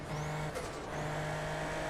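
Formula Lights race car engine at Suzuka Circuit, a steady loud drone with a rising whine sweeping up then cutting briefly as the throttle lifts before resuming, heard close with no talk.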